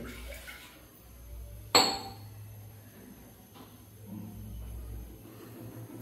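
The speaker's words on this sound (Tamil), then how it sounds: "ஒரு கிளாஸ் தண்ணி ஊற்றிக்கிறேன்." A glass of water splashes into a pressure cooker on a lit stove while mutton biryani is being made, a sudden pour near the middle, then fading into low kitchen hum.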